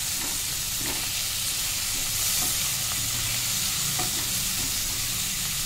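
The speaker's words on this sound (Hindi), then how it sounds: "इसमें हम डालेंगे आधा चम्मच हल्दी, थोड़ा सा रेड चिली पाउडर, और इसको भी करेंगे अच्छे से मिक्स" Pumpkin sabzi sizzles in a hot pan as turmeric and red chili powder are stirred in, producing a steady, close frying hiss broken by soft, intermittent scraping of the spoon, with no voices.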